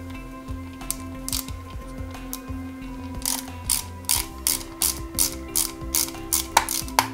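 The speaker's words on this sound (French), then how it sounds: "Et ensuite, on fixe ça avec 2 vis" Screws are driven into parts of a Ford Gran Torino scale model, giving repeated small ratcheting clicks and short bursts of a close-up handheld screwdriver, with no one speaking.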